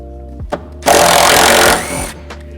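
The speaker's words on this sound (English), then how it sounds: "We gotta pull this fender bolt out right here." A fender bolt is pulled from a Jeep JK with a power tool: one close, loud, buzzing whir of about a second, set against a low steady hum with a few small knocks before and after.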